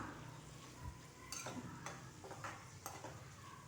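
Garlic and onion sauté with tamarind in a pan, giving a soft, steady sizzle with quiet scrapes and stirring strokes of a spoon near the pan, and no one speaking.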